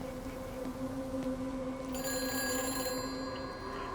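An old phone box telephone rings in a video game, a steady electronic ring that sits over a constant hum and grows brighter and fuller partway through.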